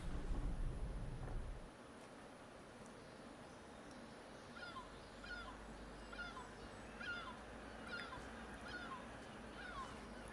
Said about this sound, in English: I hope the seagulls aren't too annoying, because they can be fairly loud.